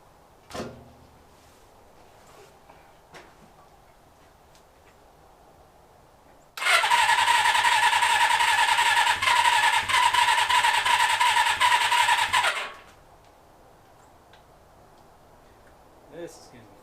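A Suzuki GS550 motorcycle engine starting for the first time in 32 years, first a few faint clicks and knocks, then a loud sustained cranking whir with a squeal lasting about six seconds before it stops.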